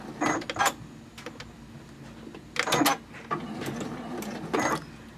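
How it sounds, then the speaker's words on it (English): A sewing machine stitches a zipper into a fabric purse in several short, whirring bursts, with quieter mechanical handling between the runs, close and alone without talk. "we can go ahead and sew that side of the zipper in"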